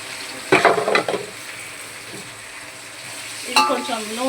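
Ground paste stirred and frying in oil in a pan for biryani, with two bursts of scraping stirring over a steady low sizzle.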